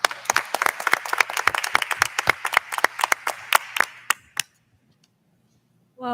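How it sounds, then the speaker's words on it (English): Short round of applause from a modest crowd at a school board meeting, with distinct individual claps for about four seconds before stopping abruptly into silence. "a round of applause."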